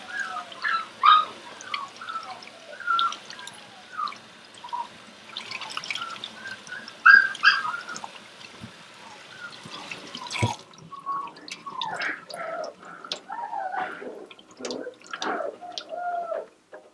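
Water dripping and splashing while six-week-old Aussiedoodle puppies are bathed, with soft puppy whimpers and squeaks mixed in, quiet and close, with intermittent splashes and a louder splash in the middle.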